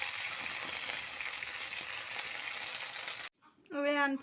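Okra and potato curry sizzles and fries in a pan, a dense steady crackle that cuts off abruptly near the end, followed by a short burst of speech.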